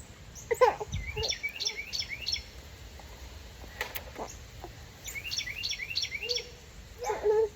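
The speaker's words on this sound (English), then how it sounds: "You hear the birds?" Birds chirping outdoors in repeated bright trilling phrases, a few calls at a time, with quiet gaps and faint rustling between them.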